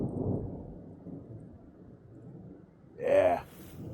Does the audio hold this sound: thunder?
yes